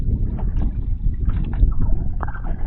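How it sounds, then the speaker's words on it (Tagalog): A boat engine hums in a steady, close, low rumble, with some wind buffeting the microphone throughout and no talking. "May humahagong ng makina."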